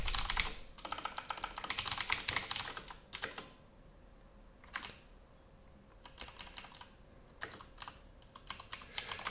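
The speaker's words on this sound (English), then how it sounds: "Let's just type it out." Close, brisk clatter of typing on a computer keyboard, with dense bursts of keystrokes broken by short pauses and a few isolated taps in a quiet room.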